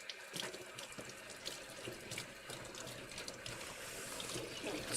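Tap water runs into a kitchen sink while something is rinsed, a continuous splashing hiss with scattered drips and trickles, close and fairly quiet, with no voices.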